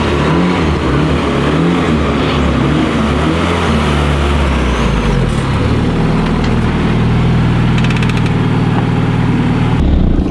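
A 1991 Honda CRX Si's engine drones loudly from inside the car while driving, a steady, continuous hum whose pitch shifts as it changes speed, with no talking.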